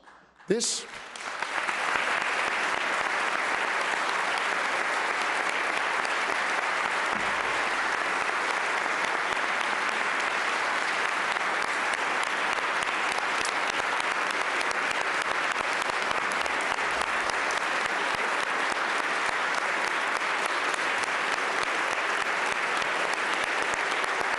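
Steady, loud audience applause in a large chamber during the Pennsylvania governor's budget address, sustained evenly for over twenty seconds after a brief opening burst.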